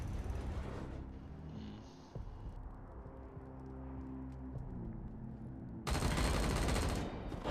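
Heavy gunfire from the video game Wasteland 3: a dense rattle of shots, quieter low rumbling in the middle, then a loud, sustained burst of bullets at the end.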